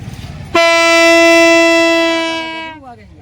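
A toy horn imitating a train horn blasts a single loud, steady, reedy tone for over two seconds and then drops in pitch as it dies away, following brief background chatter.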